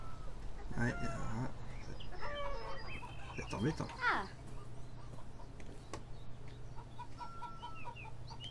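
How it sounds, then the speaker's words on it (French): Chickens clucking in the video game Beyond Eyes, scattered short clucks and calls over a low steady ambient hum, moderately close with pauses between. "Non, c'est des poules."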